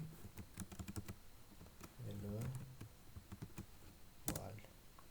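Code for a C program being typed on a computer keyboard, quiet rapid key clicks in irregular bursts, close by, with a brief murmur of a voice in between.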